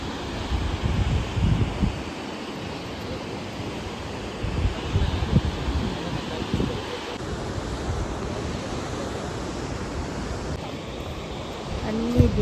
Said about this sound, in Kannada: ನೋಡೋಣ, ಇಲ್ಲಿ ನಿಮಗೂ ತೋರಿಸ್ತೀನಿ ಜೋಗ್ ಫಾಲ್ಸ್.